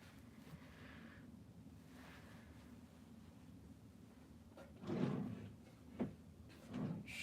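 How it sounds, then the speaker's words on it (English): A drawer shoved shut indoors, with a few short knocking thuds and scrapes near the end of an otherwise quiet stretch with low room hum. "Shoving that back in the drawer."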